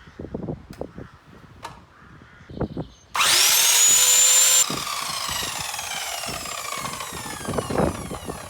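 A power tool cuts through aluminium roof rails for a Front Runner roof top tent on a 2020 Suzuki Jimny, a loud, sustained high whine for about a second and a half followed by a ringing, fading resonance, with faint knocks before it.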